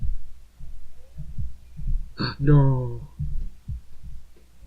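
A heartbeat sound effect in the visual novel Katawa Shoujo: steady, deep, low thumps repeat across the whole clip, and a voice speaks briefly over them partway through.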